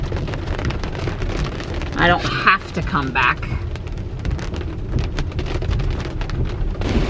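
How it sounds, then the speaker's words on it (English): Steady rain falls at a house, a dense continuous patter throughout, with a person talking briefly in the middle. "Well, honestly, at our house, we really needed the rain."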